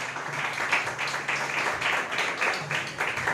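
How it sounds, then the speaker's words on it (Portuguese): A church congregation applauds together, a continuous, moderately loud wash of hand claps with a gently pulsing rhythm and no speech over it. "Aplaudam a Ele."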